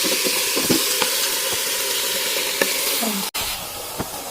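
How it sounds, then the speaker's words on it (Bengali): Marinated meat for parda biryani stirred and frying in a pot: steady loud sizzle with repeated scraping stirs and a brief sharp clank near the end. "ভালো করে নাড়তে হবে"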